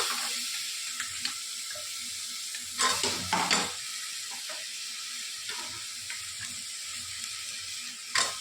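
Chopped mixed vegetables tossed into a hot pan with greens, sizzling steadily and stirred, with a few louder scraping clatters partway through; no talking.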